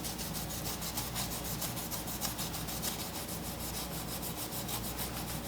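Painted front plate of a Reuleaux DNA200 vape mod scuffed by hand, a continuous rhythmic scratchy rubbing of quick even strokes, close and steady, with no speech.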